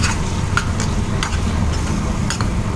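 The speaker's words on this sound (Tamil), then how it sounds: "நல்லா சிம்மில் வச்சு நம்ம கலந்து விடலாம்." Ground masala powder and salt sizzle gently in oil on a low simmer while a spoon stirs them, giving soft scraping ticks against the pan over a steady fry hiss.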